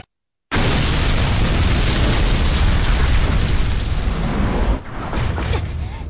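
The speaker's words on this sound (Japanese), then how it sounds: "あの爆発だ。" A loud, sustained explosion from the Dead or Alive 4 fighting game roars with dense rumbling noise after a brief silence, then eases slightly near the end.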